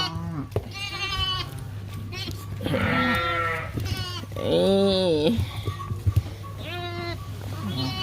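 A black sheep bleats repeatedly on a farm, several harmonic wavering calls rising over steady low background hum, with someone talking intermittently between and over the bleats.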